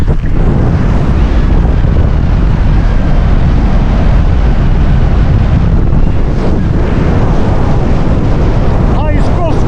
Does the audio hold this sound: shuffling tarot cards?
no